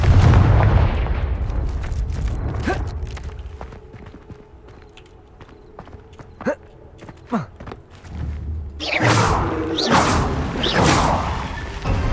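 A Confringo blast spell exploding in the Hogwarts Legacy video game: footsteps and small impacts lead into a loud, crackling burst that rolls on for several seconds near the end.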